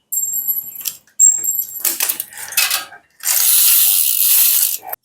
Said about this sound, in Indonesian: ini rantainya kita copot dulu